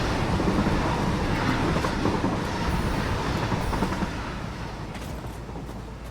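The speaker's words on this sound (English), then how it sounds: "Here comes the oil train." An oil train passes by in the factory-building game Satisfactory, a loud continuous rumble of rolling wagons with clattering wheels and faint squeals, gradually fading toward the end.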